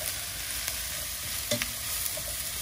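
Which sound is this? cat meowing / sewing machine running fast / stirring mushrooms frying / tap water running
stirring mushrooms frying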